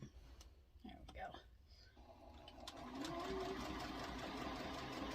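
A sewing machine stitches quilt fabric with a small appliqué stitch, starting after a few seconds and running as a steady, close mechanical whir until the end, with a person talking quietly beforehand.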